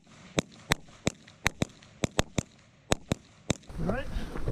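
Pistol gunshots fired at targets during a firing exercise, a dozen sharp loud cracks at uneven intervals, some in quick pairs, followed by a burst of voices talking at the end.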